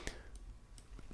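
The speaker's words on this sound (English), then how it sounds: "double click" Two quick, faint mouse clicks on a computer, a double click standing alone in a quiet room.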